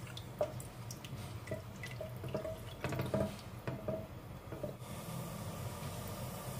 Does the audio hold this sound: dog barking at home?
no